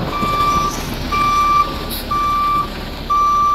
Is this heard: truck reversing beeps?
yes